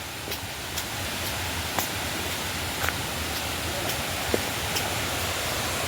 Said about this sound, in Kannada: ಈಗ ಇದೇ ಫಾಲ್ಸ್ ನೋಡಿದ.